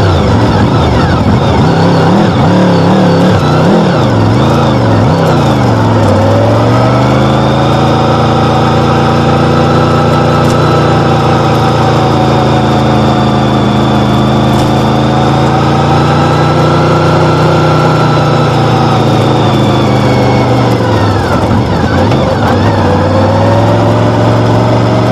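Loud, close engine running continuously from a 1998 ride through Virginia and North Carolina, holding a steady idle and shifting pitch as it revs up and settles back, with no talk.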